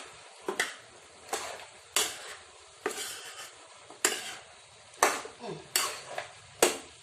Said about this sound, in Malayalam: ഇത് രണ്ടും കൂടെ നമുക്കൊന്ന് യോജിപ്പിച്ചെടുക്കാം ഒന്ന് ഇളക്കി കൊടുക്കാം